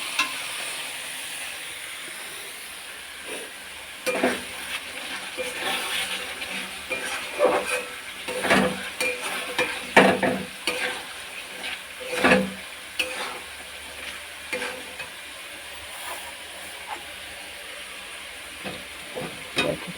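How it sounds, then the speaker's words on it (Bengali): Green and orange vegetables for a chicken dish fry lightly in a pan, giving a continuous soft sizzle and hiss broken by repeated scraping stirs that grow busier midway, with no voices. "গ্রিন আর অরেঞ্জ একটু হালকা করে একটু ভেজে নেবো"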